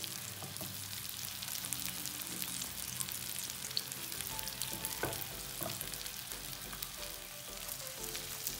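Bread and egg patties fry in a pan over medium heat, a steady close sizzle with faint crackles and occasional light tapping, with no talk.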